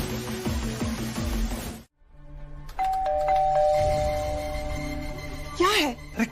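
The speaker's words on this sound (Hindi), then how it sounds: "कितनी घंटी बजाओगी?" A doorbell chimes repeatedly, its bright tones ringing out clearly after a brief pause, with a voice talking nearby and background music underneath.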